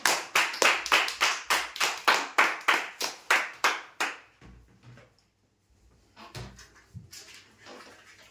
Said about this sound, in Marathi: जोरदार टाळ्या होत्या यांच्यासाठी